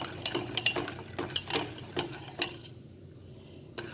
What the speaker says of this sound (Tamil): இனி மீடியம் ஃப்ளேமில் வச்சுட்டு நல்லா கிளறி விட்டுக்கிறேன்.